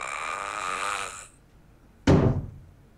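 A sleeping person snores with a drawn-out, buzzing breath that fades, then after a pause a sudden loud, rough snort bursts out close to the microphone.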